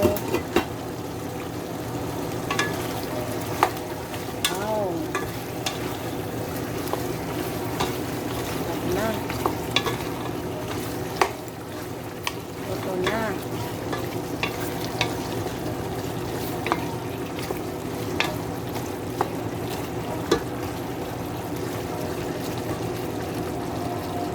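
Pork adobo bubbles and sizzles steadily in a pan as a utensil stirs and scrapes through it, a soft continuous simmer with scattered clinks and no speech over it.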